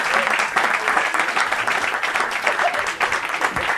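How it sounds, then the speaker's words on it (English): An audience at a stand-up comedy show applauds comedian Doug Smith, dense sustained clapping from a crowd, steady and fairly loud throughout, with no voices heard over it. "Everybody, big round of applause for my buddy Doug Smith."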